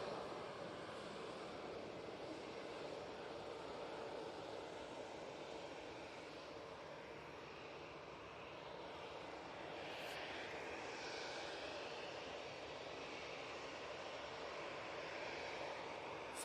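An EasyJet airliner taxiing at Manchester Airport, a faint, steady engine whine and rumble heard from a distance, holding level throughout with no talk.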